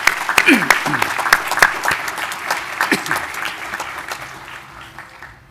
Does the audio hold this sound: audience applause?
yes